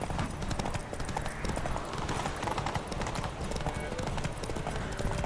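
Galloping horse hooves in The Witcher 3 pound in a steady, rapid clip-clop during a race, loud and close throughout, with a voice speaking over the running hoofbeats.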